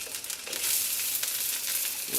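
Mushrooms sizzle and fry in hot oil in a wok while being stirred, a steady close hiss with a few louder crackling bursts throughout, no voices.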